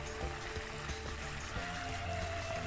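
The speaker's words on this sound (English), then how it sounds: "The sounds of Canada's river water" River water flowing in winter in Canada, a steady broadband rush with faint trickling detail, moderately quiet and continuous throughout with no voices.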